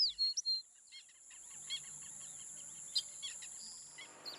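Birds call in the wild habitat of Ranthambore park, a few sharp chirps at first, then fainter scattered calls over a steady high insect buzz and soft background hum.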